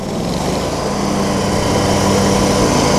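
A 30-year-old Cub Cadet 1440 riding mower engine runs loud and close, its drone rising slightly and holding as the throttle opens up, with no talking.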